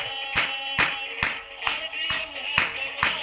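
An audience at a celebration event claps in steady unison, with about eight evenly spaced, moderately loud beats over a faint tonal hum and no talk.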